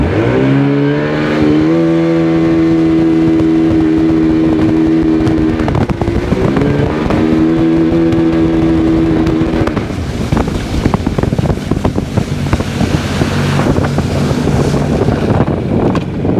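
A 2002 Sea-Doo GTX DI personal watercraft engine runs steadily with a rising then settling tone, joined by wind buffeting and water noise throughout, loud and close.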